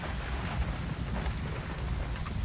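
Rain falls steadily in the video game Ghost Recon Wildlands, a dense, even patter with a low rumble beneath it and no speech.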